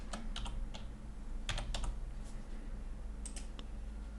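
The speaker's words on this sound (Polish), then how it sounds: "Ponownie wpisuję komendę divide." A computer keyboard clacks as a command is typed, scattered clusters of quick, close keystrokes over a steady low background hum.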